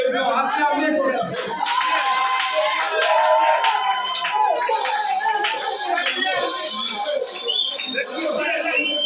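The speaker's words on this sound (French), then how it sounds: "Acclamez le frère." A church congregation applauding a brother, steady loud clapping from many hands with cheering voices mixed in, sustained throughout.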